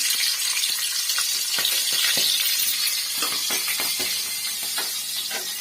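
Green peas sizzle and crackle steadily in hot oil in a village kitchen pan, a constant close frying hiss with scattered pops, no one speaking.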